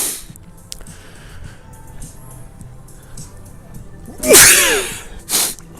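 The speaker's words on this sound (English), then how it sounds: "Right, I've just had a sneezing fit." A single loud, sharp sneeze bursts out near the end, followed by a brief breathy exhale, after a stretch of quiet background noise.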